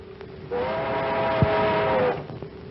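A C&O streamliner train sounding its horn in an old comedy film, a sustained harmonic blast that starts abruptly, holds for about a second and a half, then cuts off, with a brief thump partway through.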